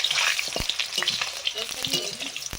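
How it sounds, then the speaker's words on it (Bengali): Potatoes fry in hot mustard oil, a loud, close, crackling sizzle with spatula scrapes scattered through it and no talking. "সর্ষের তেল আলুগুলো ভাজবো প্রথমে আলুগুলো ভেজে নিচ্ছি"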